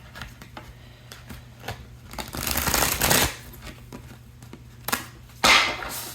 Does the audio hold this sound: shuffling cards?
yes